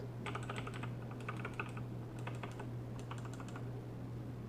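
Keyboard with Razer Green mechanical switches typed in several rapid bursts of crisp, clicky key presses, close and distinct over a constant low hum.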